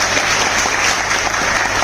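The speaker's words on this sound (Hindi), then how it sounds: "आपके लिए मैं ताली बजाती हूँ और आपसे प्रार्थना करती हूँ आपकी जगह पर बजाइए" Audience applause at a teachers' honour ceremony in Bulandshahr, a steady, dense clapping that fills the whole stretch at close, even loudness without pause.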